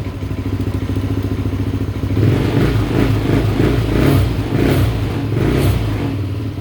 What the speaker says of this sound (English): that rattling is those bolts